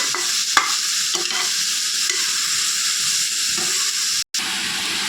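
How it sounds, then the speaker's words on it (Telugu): Prawn and egg curry sizzles steadily in a pan with a bright, continuous frying hiss, broken by soft scrapes of slow stirring and one brief cutout near the end. "అన్నీ ఇలా మగ్గబెట్టుకుంటూ ఉండాలండి, నెమ్మదిగా కలుపుకుంటూ."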